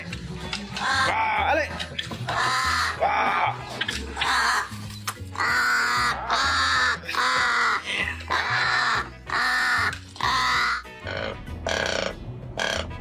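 Ravens give a run of loud, close caws in quick repeated bursts with short gaps between calls.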